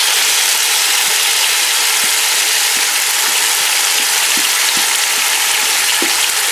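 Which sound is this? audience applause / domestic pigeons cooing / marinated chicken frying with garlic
marinated chicken frying with garlic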